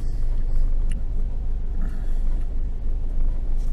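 Honda car driving through snow, heard as a steady low engine and road rumble from inside, continuous and unvarying with no speech.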